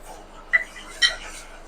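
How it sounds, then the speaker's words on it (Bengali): Spoon clinking against a pan while sugar is stirred into a boiling sweet chutney, two light metallic taps close by over quiet kitchen background. "চিনিটাকে একটু নেড়ে দিয়ে গলিয়ে দেবো চাটনির মধ্যে।"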